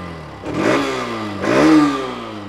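Hero Xtreme 125R motorcycle exhaust blipped twice up close, each rev a sharp rising whine that climbs and falls back to a steady idle burble, loud and with no voices.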